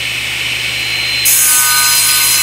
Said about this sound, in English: we're going to raise the saw blade up and we're going to make a cut that comes down here about 3 inches